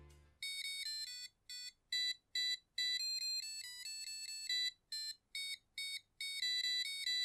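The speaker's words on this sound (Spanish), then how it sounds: "ya podemos escuchar la melodía que hemos cargado en nuestro Arduino" Piezo buzzer driven by an Arduino plays a programmed melody: bright, clear electronic beeps in a stepped tune, with short pauses between phrases, loud and close with no talking.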